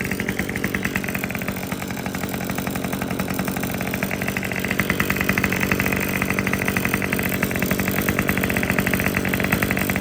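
A small handheld two-stroke equipment engine idles steadily and loudly nearby, a fast even buzzing putter that holds without a break and rises slightly partway through.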